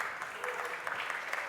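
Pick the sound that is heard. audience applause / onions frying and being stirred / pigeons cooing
audience applause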